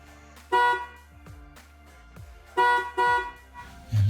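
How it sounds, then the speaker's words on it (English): A car horn sounds a short honk, then a double honk of two quick toots, confirming a tire pressure monitoring sensor relearn done with a VXDAS TPMS relearn tool. The honks are loud and close, with quiet clicks between them. "the last one, which should give us a double honk when complete"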